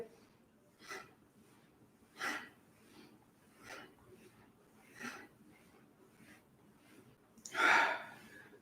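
Slow breaths during a yoga flow, with five soft airy exhalations spaced about every one and a half seconds and a louder, fuller breath near the end, close and quiet with no talking.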